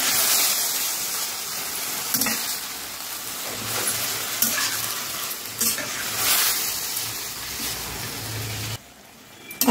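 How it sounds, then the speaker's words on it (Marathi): Marinated mutton mince (kheema) fries in ghee, giving a loud, steady, close sizzling hiss with occasional stirring scrapes that cuts off abruptly near the end. "आपण खिमा मस्त फ्राय करून घ्यायचा"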